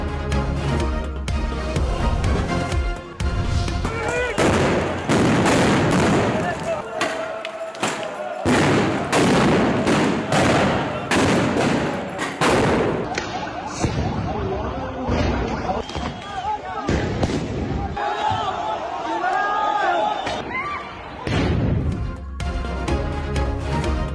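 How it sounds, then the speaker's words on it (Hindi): Gunfire, grenade blasts and tear gas shelling during an Israeli police raid on Palestinians at Al-Aqsa Mosque, repeated loud thuds and bangs amid crowd noise, with a voice talking over much of it. "फलस्तीनियों पर आंसू गैस की शेलिंग, ग्रेनेड्स और गोलियों की बौछार कर दी।"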